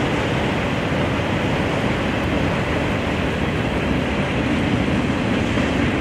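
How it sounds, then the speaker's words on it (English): A continuous, steady rumbling roar of a train passing behind the Potawatomi Zoo in South Bend, Indiana fills the whole stretch, broad and unchanging, with no voices. "You can see a train passing behind us."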